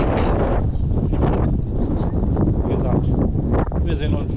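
Strong wind on the beach at Sankt Peter-Ording roars and buffets the microphone without a break. Loud, dense rumbling fills the whole stretch, and voices are faintly buried underneath.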